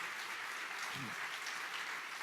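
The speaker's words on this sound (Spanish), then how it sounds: "dale fuerte el aplauso a Jesús" Church congregation clapping in praise during a wedding-themed sermon, a steady, even wash of applause throughout with a brief low voice-like murmur in the middle.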